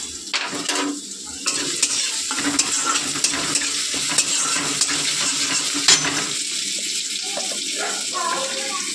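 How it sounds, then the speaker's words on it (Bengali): Cumin seeds tempering in hot oil for a home-cooked Bengali dish, a steady loud sizzle and crackle running throughout with occasional sharper pops and faint background voices. "দেখো এবার জিরে ফোড়ন দিচ্ছি"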